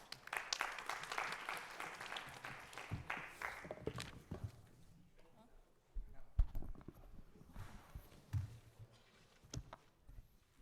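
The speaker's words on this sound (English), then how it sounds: "Let's give them a warm applause." An audience applauds at a club event, a burst of clapping that fades after a few seconds, followed by scattered taps, footsteps and room noise.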